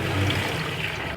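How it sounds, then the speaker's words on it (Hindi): Measured water is poured into a pan of fried vegetables for a white mixed vegetable pulao, making a loud, continuous close rush of liquid that lasts about a second with no voices. "मैं इसमें डालूँगी पानी जो मैंने नाप के रखा हुआ है।"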